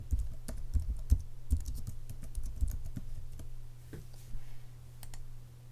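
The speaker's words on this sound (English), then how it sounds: "So I've typed that in" Keys clatter on a computer keyboard as a short Hello World program is typed in, giving a close, irregular run of clicks over a low steady hum.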